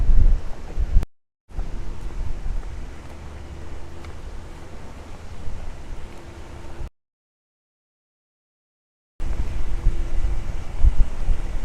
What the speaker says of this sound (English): It does get windy here in Miami